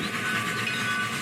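A model train speeds down the tracks with a steady rolling rumble and faint hiss, continuous and fairly close, with no pauses.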